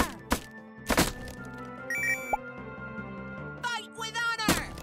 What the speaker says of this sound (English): I'm breaking boxes.